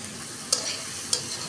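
Bitter gourd fried in a pan with salt, browned garlic and chilies, stirred with two sharp scrapes over a constant close sizzle.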